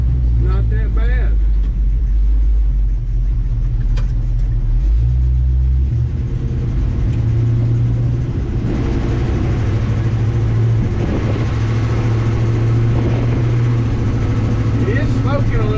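A 1953 Chevy truck that had sat unused for a long time and smokes a little runs while driving, giving a steady, loud, low engine drone with shifting tones, and a voice speaks over it at times.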